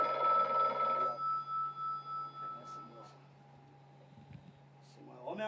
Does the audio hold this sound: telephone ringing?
yes